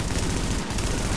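Dense, continuous gunfire from The Division, a Tom Clancy shooter set in New York, with rapid overlapping shots forming a loud, unbroken fusillade for the full length.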